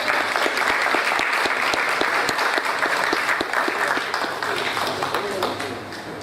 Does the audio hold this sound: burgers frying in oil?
no